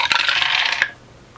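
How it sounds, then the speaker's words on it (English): Handful of dice rattling and clattering down a homemade wooden dice tower, a dense burst of bright clicks lasting under a second, then quiet. "Put some dice in."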